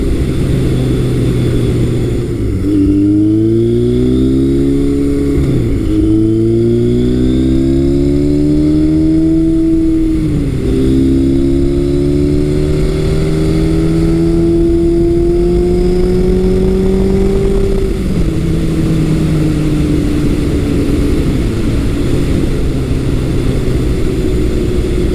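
A 1978 Kawasaki KZ1000 motorcycle engine running up through the gears on a test ride, loud and close, its pitch climbing and dropping with each shift, then cruising steadily at speed.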